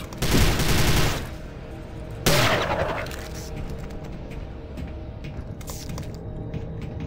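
Weapon fire at enemies in Prey, two loud bursts of rapid shots about two seconds apart, followed by quieter crackling and ambient hum.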